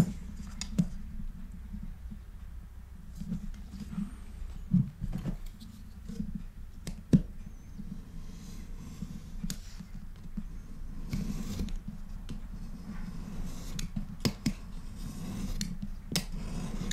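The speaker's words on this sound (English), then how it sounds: "this is a good time to trim the edges nice and square before we stitch it" A blade trims the edges of a glued leather knife sheath, giving close, soft scraping and snipping strokes in an irregular series, with a few sharper clicks scattered through.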